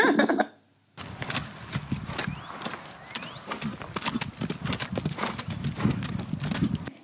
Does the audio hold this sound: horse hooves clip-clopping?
yes